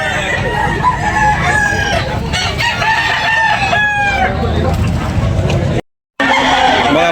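Roosters crowing repeatedly over clucking chickens at a busy poultry market, several birds close by and loud, with a brief dropout near the end.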